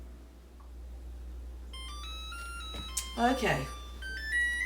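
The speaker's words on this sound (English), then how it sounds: "our timer just went off." A kitchen timer goes off after a chocolate chess pie bakes, a bright beeping melody of sustained electronic tones rising and stepping over several seconds, with a brief spoken word under it.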